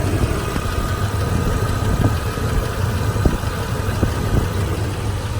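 A 2003 Toyota Tundra with 200,000 miles sits idling, its engine giving a steady, quiet low hum with faint light ticks, close by and alone with no talk.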